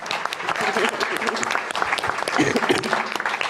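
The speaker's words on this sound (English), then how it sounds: "That deserves an applaud." An audience at a food waste summit panel discussion breaks into brief applause, a short burst of clapping with some voices mixed in, moderately close and fairly even before it begins to thin.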